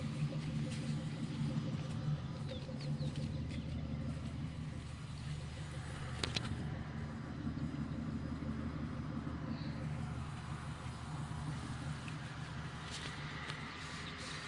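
A 1992 Mercury Grand Marquis with Flowmaster 40 mufflers idles while still warming up, a steady low exhaust rumble that runs throughout without any change in pace.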